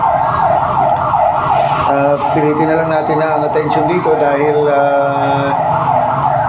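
Several ambulance sirens wail loudly in a passing procession, their rising and falling tones overlapping as someone speaks over them in Filipino.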